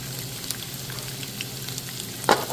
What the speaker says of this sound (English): Getting that all nice and sizzling.